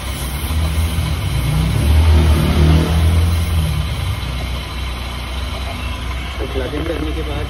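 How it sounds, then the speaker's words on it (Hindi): A car engine idling steadily, started before a tyre inflator is plugged in, a close, loud, low rumble that swells slightly and then settles, with someone talking over it. "सो अभी मैं आ गया अपने टायर के पास और अभी इंजन मैंने स्टार्ट कर लिया है"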